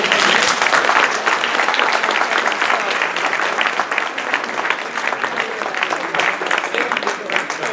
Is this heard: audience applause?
yes